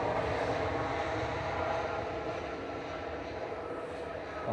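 TUI Boeing 737 Max 8 airliner at Manchester Airport, a steady broadband jet engine roar held at a constant, moderate level with no breaks, heard from a spotting position.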